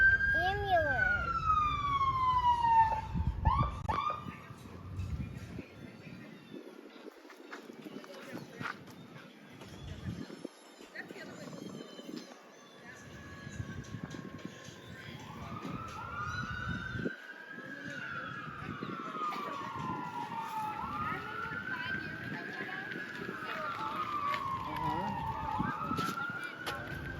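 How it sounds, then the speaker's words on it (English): Ambulance siren wailing in rising and falling sweeps, moderately distant and steady through the stretch, over outdoor background noise during a windy day in Florida. "Ambulance."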